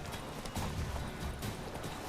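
Steady clip-clop of horse hooves at a brisk gait in the video game The Witcher 3: Wild Hunt, fairly even rhythm, with a busy game soundscape underneath and no talking.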